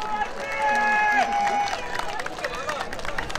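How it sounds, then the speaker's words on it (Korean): An outdoor crowd at a presidential campaign launch on the National Assembly grounds cheers and applauds, a dense roar of voices and clapping that holds steady, then thins slightly. "대한민국의 자유와 번영을 위해 큰 박수 부탁드립니다."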